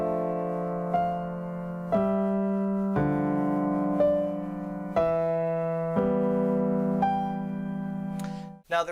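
A piano plays a slow, simple melody: eight evenly spaced notes and chords, one per second, sustained and ringing, close and clear with no talking.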